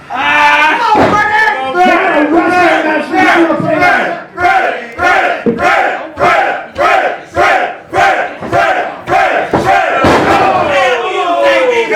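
A wrestling crowd chants in a rhythmic two-beat pattern, loud and repeated many times in steady pulses, with voices rising together between claps and stomps.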